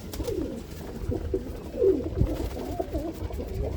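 A pigeon coos in a series of low, warbling, rolling calls that repeat one after another, close and clear, with a faint dull thump partway through.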